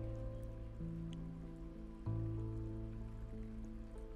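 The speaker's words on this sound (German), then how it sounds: "Ich höre immer noch irgendwo Wasser plätschern, das ist uncool." Steady running water trickles and splashes somewhere inside a house under renovation in the game House Flipper, faint and continuous beneath a low humming tone, with a brief soft clunk midway.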